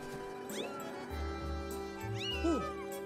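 A cat creature in the game Skyward Sword meows twice, with rising and falling calls over a soft game music bed and low pulsing background tones.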